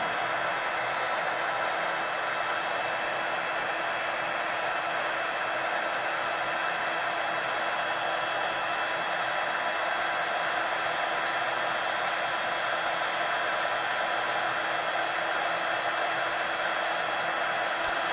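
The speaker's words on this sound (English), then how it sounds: "I'm going to make some noise. And I'm going to melt this embossing powder." Heat tool melting embossing powder, a constant loud blowing whoosh of fan and hot air that runs without a break, with no talking.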